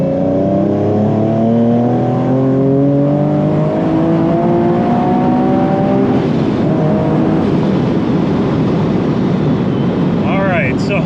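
A supercharged Nissan 370Z accelerates hard from about 3,000 rpm, its engine note climbing steadily in pitch over several seconds, loud and continuous from inside the car.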